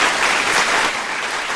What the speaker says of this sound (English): Look at them clapping real loud.